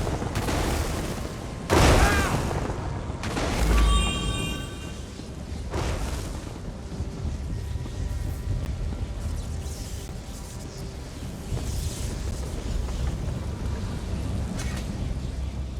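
A lightning spell attack in the Elder Scrolls Online video game lands with a booming crackle and burst, followed by a dense, rumbling roar of game combat that runs loud and steady for the rest of the stretch.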